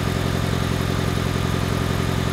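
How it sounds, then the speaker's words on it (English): A car engine started cold and left idling with its cylinder head off during a mechanic's inspection, running with a steady, even low rumble and fast regular pulses, close and constant throughout. "A simple test is just to take it off like it is now and start the engine cold."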